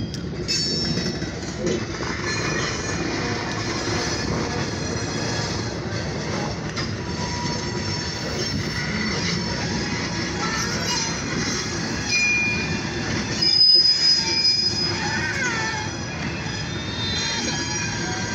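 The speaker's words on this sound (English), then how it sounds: "They're gonna go backwards with this train" OC&T freight train in Titusville, Pennsylvania rolling slowly backwards, a steady close rumble of wheels and cars with faint squeals and a brief clank, continuous throughout.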